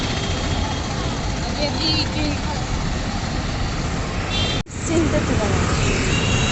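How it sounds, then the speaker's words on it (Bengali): Steady road traffic rumbles throughout, engines droning close by with continuous vehicle noise and a brief dropout near the end. "রাস্তাটা এতটুকু ফাঁক নেই একটু সব সময় গাড়ি চলছে গাড়ি"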